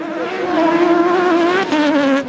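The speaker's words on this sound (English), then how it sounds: "Sequential gearbox, and just listen to him up shifting." BMW race car with a naturally aspirated engine of about 400 horsepower, sequential gearbox, at a hillclimb festival, revving high and holding a steady howl before a quick upshift near the end, loud and close with no talk.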